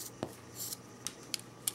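Scissors snip through paracord in several sharp, separate cuts, each a brief crisp click with the blades closing, heard close over a steady fan hum in a quiet room.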